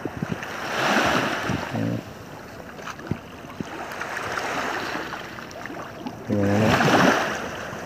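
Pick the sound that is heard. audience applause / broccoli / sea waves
sea waves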